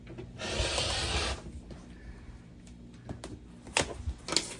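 Quilted fabric trimmed along a ruler, a soft rasping cut lasting about a second, then quiet handling with light taps and shuffles of the ruler and fabric.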